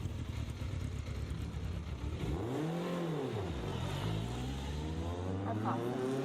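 A supercar accelerating hard on the Mondello Park race track, its engine rising to a loud roar and sweeping past up close at mid-clip, then droning on steadily with a continuous engine note.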